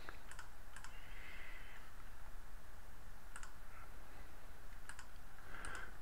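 Computer keyboard typing on an elementary OS desktop, a few short quiet bursts of keystrokes spaced out over a steady background hiss, with no talking.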